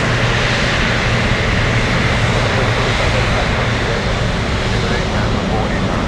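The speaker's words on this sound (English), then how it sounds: "F-22 is about to take off" An F-22 fighter jet spooling up for takeoff at Anchorage gives a loud, continuous broadband roar with a low droning hum beneath, unbroken and close.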